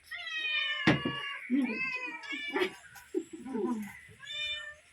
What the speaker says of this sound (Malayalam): എന്റെ പൂച്ച വന്നിട്ടുണ്ട് കേട്ടോ